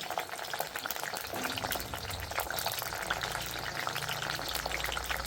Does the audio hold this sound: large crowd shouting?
no